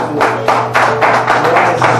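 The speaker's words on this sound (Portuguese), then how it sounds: "Você pode aplaudir a Deus?" A church congregation applauds during a worship service, with a dense, steady wash of many hands clapping loudly for the whole span and faint rhythmic swells.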